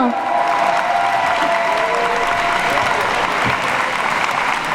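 An audience at a left-wing political rally in Brest applauds the list's running mates, a steady burst of clapping with some crowd noise and a voice briefly heard through it.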